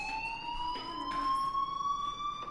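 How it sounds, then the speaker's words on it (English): A fire alarm in the video game Life is Strange: a steady electronic tone with clear harmonics that rises slightly in pitch, sounding continuously and fairly faint, with a few soft background noises and no talk. "Hey, do you hear that fire alarm? That means you should be outside."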